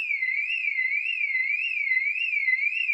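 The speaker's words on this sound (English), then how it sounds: "a car alarm." A car alarm wails in a smooth rising and falling siren pattern, repeating about every half second, loud, clear and steady with no other sound.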